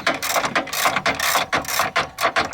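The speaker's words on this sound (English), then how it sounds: "I've got a, let's see, a 21mm socket right here." A 21mm socket on a ratchet turns a nut off a lower ball joint on a 2004 Mercedes C320 4Matic, giving a close, loud run of rapid pawl clicks in quick bursts with brief pauses between strokes.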